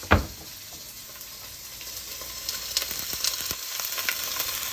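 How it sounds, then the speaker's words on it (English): Beef shank dropped into hot oil sets off a loud initial sizzle, which settles into a steady fry and then grows busier with crackling and occasional stirring as the meat browns. "Now I'm going to put the beef in to fry it until browned, gently browned."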